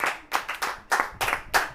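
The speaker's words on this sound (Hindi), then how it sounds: "ताली बजाइए, ताली और करके बजाइए, और करके" A church audience claps in a quick, uneven run of about seven bursts, close and fairly loud, with no voices over it.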